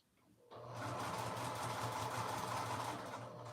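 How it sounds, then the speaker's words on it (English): A sewing machine stitches the bottom half of a dress at a 3/8 seam allowance, starting after a short quiet moment and then running in a steady, even whir until the end. "I'm just sewing the bottom half of the dress now down at a 3/8 seam allowance."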